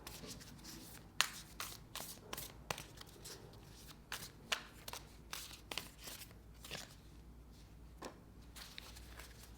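Oracle cards are shuffled by hand in a quiet room, giving a string of crisp, close riffling snaps and soft slides at an irregular rhythm, with no talking.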